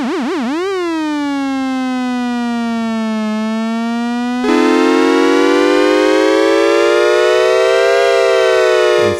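A Moog Memorymoog synthesizer plays a loud, sustained, buzzy tone whose pitch wobbles at first under slow LFO modulation, then glides gradually. Partway through, the tone turns brighter and harsher, with no talking.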